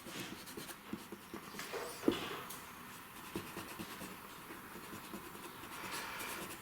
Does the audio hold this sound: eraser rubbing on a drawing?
yes